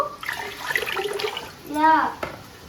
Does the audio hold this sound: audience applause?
no